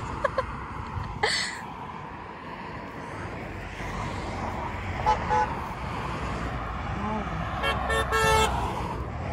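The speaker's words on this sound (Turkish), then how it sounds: "Her geçen araba bize korna çalıyor." Passing cars on a roadside near a poppy field in the English countryside give several short horn toots over steady traffic noise, with people talking nearby throughout.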